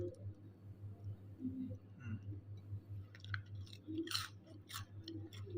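Someone bites and chews crispy deep-fried Lanna tue kha ko snack dipped in sauce, with soft crunches and squelchy chewing near the mic over a low steady hum and faint murmuring.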